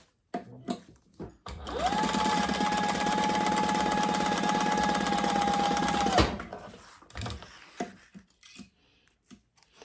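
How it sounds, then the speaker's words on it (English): A sewing machine stitches along the bottom of a wallet's double card-slot panel in one steady, fast, loud run of about four seconds, framed by handling clicks and rustles before and after. "we're going to sew along the bottom of that one as well"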